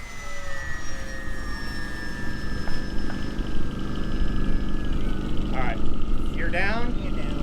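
A HobbyZone P-51D Detroit Miss radio-controlled model plane flying inverted, its electric motor a steady whine with pitch sweeping slowly downward, heard at moderate distance over continuous outdoor wind and rumble.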